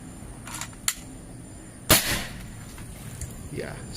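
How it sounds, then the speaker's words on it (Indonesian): A folding PCP air rifle charged to 3500 psi cracks once at close range, a sharp snap with a short decaying tail, after a few light mechanical clicks and with faint background talk. "Oke, tembakan kedua track 3 lagi"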